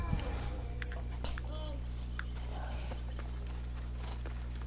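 A horse's hooves clip-clop in a video game, a short run of close, fairly loud steps over a steady low hum, with a voice talking over them.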